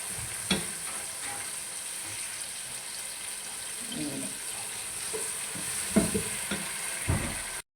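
Tomatoes, onions and green chili sizzle and fry in a pan while being stirred, with steady close frying hiss and a few scraping stirs and clinks, no talk.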